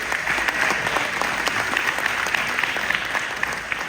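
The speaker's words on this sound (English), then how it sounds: "I want you to give a round of applause for Councilwoman Jamie Gauthier" Steady, dense applause from a crowd at a city budget town hall meeting in West Philadelphia, clapping welcoming a councilwoman, sustained and fairly loud throughout.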